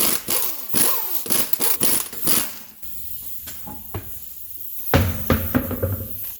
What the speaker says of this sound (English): then we'll hammer off the CV nut